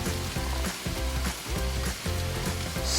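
Green onions hitting hot oil with fried potatoes in a pan, a loud steady sizzle with faint stirring scrapes, close and continuous with no voices.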